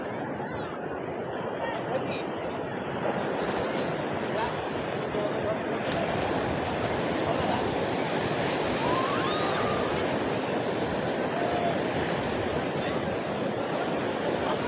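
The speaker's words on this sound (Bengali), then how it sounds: "কি উন্মাদ ঢেউ বাবা" Sea waves at Puri beach roll and wash in a constant surf roar, with a faint murmur of beachgoers in the background.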